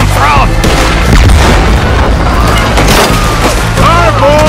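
Loud, booming gunfire from a pistol and other weapons in the Red Dead Redemption 2 video game, with repeated shots and impacts layered over game music.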